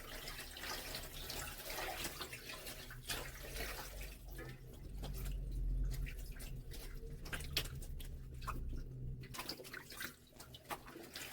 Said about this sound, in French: on commence par bien rincer le tout à l'eau tiède pour le nettoyer